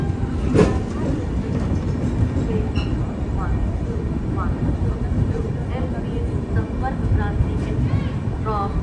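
Sampark Kranti Express pulling into platform 1 at an Indian railway station, a steady low rumble of the arriving train with faint squeals and clanks, people talking throughout.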